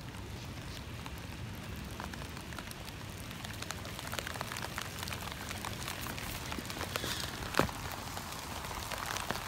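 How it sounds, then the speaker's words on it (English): Steady rain falls outdoors in a garden bed among perennials and rhubarb, a soft continuous hiss with scattered drop taps and one sharper knock near the end, no voices present. "It's starting to rain."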